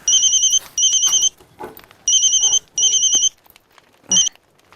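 A telephone rings in bursts: two electronic trills, a pause, two more, then a short final chirp, loud and close, with faint rustling between.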